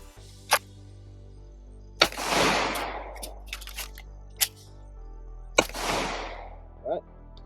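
Several Taurus G3 Tactical pistol shots crack out one at a time at uneven intervals, loud and close, with some shots trailing into a brief echo.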